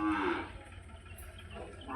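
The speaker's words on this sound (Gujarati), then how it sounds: "આ વાડામાં છે, ઘણી બધી ગાયો છે." Cows moo in a covered shelter pen at a cow sanctuary, one full low moo at the start, close and loud, then fading into steady pen noise with a fainter call toward the end.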